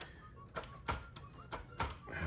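Type bars on a 1974 Sears Manual 1 manual typewriter (Nakajima-built) snap against the platen in a handful of separate, sharp close strikes spaced irregularly, with a quiet room between them.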